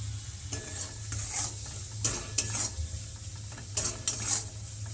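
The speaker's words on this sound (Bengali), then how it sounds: "আমি এখানে রান্না শুরু করে দিয়েছি চিংড়ি মাছটা ভাজছি" Prawns coated in salt and turmeric frying in oil in a wok: a soft, steady sizzle broken by several sharp scrapes and clinks from a utensil stirring the pan, close by.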